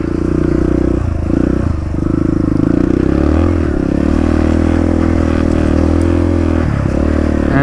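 A dirt bike on the wrong tires for sand churns through sand in a creek, its engine a loud, steady close-up drone with brief dips and surges as the throttle changes and the bike struggles.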